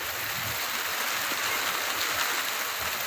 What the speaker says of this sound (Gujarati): જોરદાર વરસાદ આવી રહ્યો છે